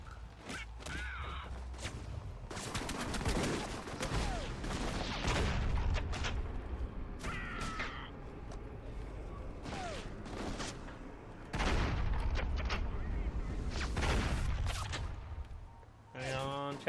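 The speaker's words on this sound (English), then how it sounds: "The noise from those fireworks should cover the sound of gunfire." Video game firefight in Alpha Protocol, with bursts of gunfire and crackling firework pops scattered across a noisy in-game soundscape, loud volleys alternating with quieter stretches and a low background rumble.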